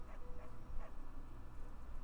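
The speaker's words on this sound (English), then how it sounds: "No, that's a dog." A dog in a video game gives a few faint, muffled yips and whimpers at a distance, set low behind a steady background hum.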